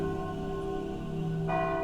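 A church bell, long silent, tolls softly, its sustained ringing tone hanging throughout with a fresh strike near the end.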